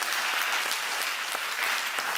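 Applause from a congregation during a church sermon, a steady dense wash of many hands clapping for the whole stretch with no voices over it.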